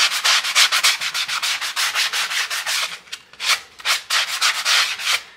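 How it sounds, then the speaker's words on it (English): Rapid, rhythmic scraping strokes of a farrier's rasp against a horse's dorsal hoof wall, loud and close, with a few brief pauses between bursts. "whenever you're rasping on the dorsal hoof wall, take pride in your work"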